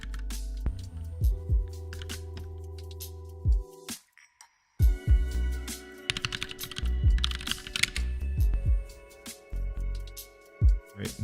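Typing on a computer keyboard, bursts of quick close key clicks with short pauses and one near-silent gap, occasional louder taps, no talk.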